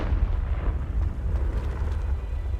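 Confringo spell blast in a wizarding video game: a loud, booming explosion with rolling low rumble and scattered crackle, continuous throughout, without any voices.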